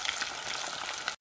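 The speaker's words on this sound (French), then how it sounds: "Après 5 à 6 minutes de friture, je viens retirer ma viande de mouton de l'huile." Mutton leg pieces frying in hot oil over medium-high heat, a dense steady sizzle and crackle that runs close and loud for just over a second before cutting off abruptly near the end.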